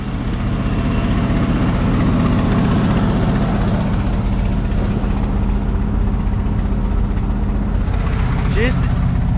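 An old engine that sat unused for years runs continuously at a steady idle, a loud, even low rumble with a droning hum throughout.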